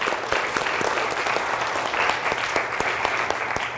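An audience at a reading-program event clapping for the grandparents, a steady sustained round of applause from many hands, moderately loud and continuous.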